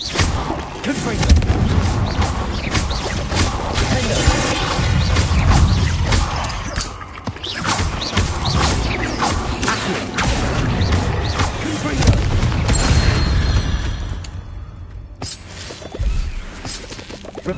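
Confringo blasting-spell explosions in a Hogwarts video game, repeated booming blasts and crackling bursts over a busy game soundscape, with someone talking over parts of it.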